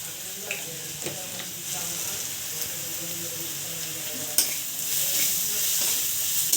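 Onions frying in a pan with salt and turmeric, a continuous close sizzle and hiss with occasional soft stirring knocks, steady throughout.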